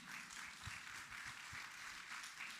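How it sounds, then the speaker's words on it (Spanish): A church congregation applauds in a soft, even patter of many hands, faint and distant and steady throughout. "Denle un aplauso al Señor, amén."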